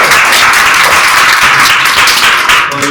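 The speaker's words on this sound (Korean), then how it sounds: "저희 박수 한번 치고 끝내도록 하겠습니다" Applause from an audience at the close of a proposal-bidding industry seminar, a dense, steady wash of many hands clapping at full volume for about three seconds, tapering slightly at the end.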